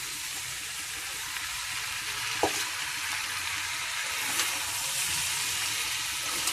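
Vegetable stems such as drumstick and gourd stalks sizzle steadily in a hot pan for Bengali pachan, with a few brief scraping knocks as they are stirred.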